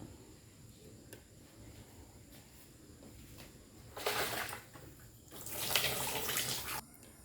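Squid for adobong pusit is washed under a running tap, with quiet handling at first and then two louder bursts of gushing, splashing water.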